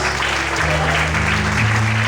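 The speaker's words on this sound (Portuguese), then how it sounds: "Se você crê, bate palma e exalte e adora a Deus esta noite." A church congregation claps during a worship service, a dense, steady wash of hand clapping over a low sustained organ-like tone, continuous and loud throughout.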